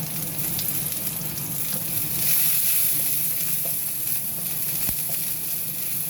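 Garlic and chicken wings fry in a small amount of oil for honey chicken wings, with a steady close sizzle and a few scraping stirs and clinks over the continuous crackle.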